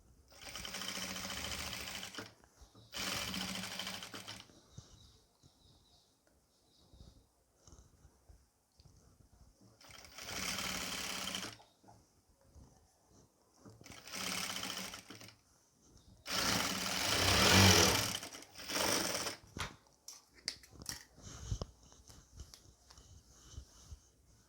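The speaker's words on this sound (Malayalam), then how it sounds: "നമുക്കിത് സ്റ്റിച്ച് ചെയ്ത് കൊടുക്കാം കേട്ടോ." A sewing machine stitches piping onto the neck of a nighty in several separate bursts of fast whirring, some short and one longer, with quiet pauses between them. The machine is close and fairly loud.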